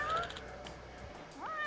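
A scruffy stray kitten in a Hawaiian-set pirate video game gives a couple of short, close meows, faint and high against quiet background sound.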